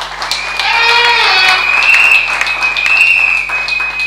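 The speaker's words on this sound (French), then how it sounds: "Je vous demande de l'acclamer." Audience applause at a foundation launch event in the Tshopo region, greeting a newly elected female director general, steady clapping and cheering sustained for several seconds with a high whistle or ululation over it.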